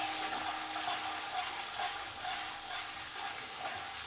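Ginger garlic paste and crushed onion stirred in a pot, giving a steady, close sizzle with soft scraping of the spoon that stays even throughout, no voices.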